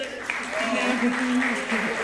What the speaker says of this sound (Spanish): Un aplauso gigante.